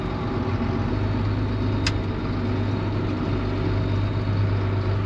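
A vehicle engine in subzero cold of about minus 42 degrees in Montana, running as a steady low rumble for several seconds, with one brief sharp click partway through and no talk.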